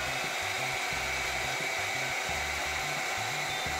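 A 1000 W hair dryer runs steadily off a sine-wave power inverter, a constant high airflow whine with a low pulsing hum underneath, loud and continuous with no talk.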